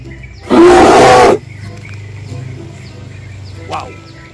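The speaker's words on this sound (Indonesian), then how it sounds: "Wow, ini beruang kutub" A polar bear lets out one short, loud, harsh roar, followed by several seconds of low background noise and a faint thump.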